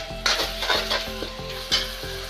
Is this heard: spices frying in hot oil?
yes